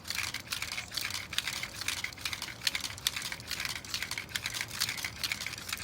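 Quick dry tapping and rattling clicks of seed pods in a steady rhythm, light and crisp, continuing evenly with no voices.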